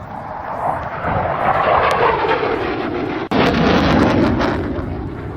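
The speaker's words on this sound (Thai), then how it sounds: "แล้วก็เจอรอบพอดีรอบเครื่องบินบิน" An airplane roars overhead at a Children's Day fair in Muak Lek, a loud sustained broadband engine rumble that swells and holds steady throughout, with no voices.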